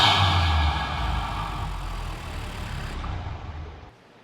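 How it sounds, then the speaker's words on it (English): A Honda Civic FK8 Type R fitted with a PRL intake gives a low engine rumble with an airy turbo whoosh that eases down and cuts off near the end. "You get that turbo noise"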